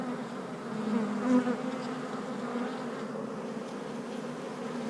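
Honey bees buzz around a hive frame being brushed off, a close, continuous droning hum that holds steady throughout with no voices.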